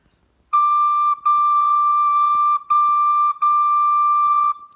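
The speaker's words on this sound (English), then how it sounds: "So let's play the high D bit." A recorder sounds one clear, sustained high note, repeated four times with brief tongued breaks between.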